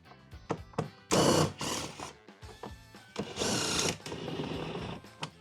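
Power driver spinning out the two seat back bolts on a Madjax 250 golf cart rear seat kit, with two loud whirring bursts separated by clicks and clanks of handling.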